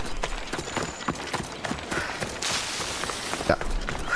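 A horse in Assassin's Creed Odyssey clip-clops with a steady run of soft hoof falls over low ambient game sound.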